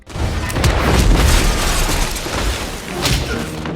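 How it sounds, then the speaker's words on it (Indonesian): A deep booming explosion inside a well rumbles loudly and rolls on for seconds, with debris crashing and a second burst toward the end; film audio. "terjadilah ledakan di dalam sumur"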